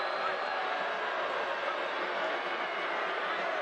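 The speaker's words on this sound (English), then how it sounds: "The crowd acknowledging number 10." Stadium crowd at a soccer match between Tampa Bay Rowdies and Rhode Island FC, a distant, steady roar of applause and noise with no clear peaks.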